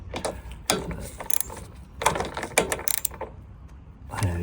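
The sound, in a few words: tightening parts on a Mountfield RS100 mower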